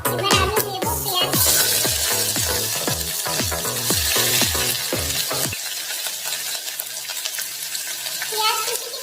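Chopped onion dropped into hot oil already holding whole cinnamon and bay leaf, a loud steady sizzle and frying hiss with rapid stirring scrapes in the first half, then settling into a quieter continuous fry.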